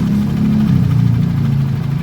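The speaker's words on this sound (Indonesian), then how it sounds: "Oke, mesin sudah dinyalakan." A Yamaha NMAX scooter engine runs steadily at close range, a low continuous hum with a slight dip in pitch partway through, loud and without any voices over it.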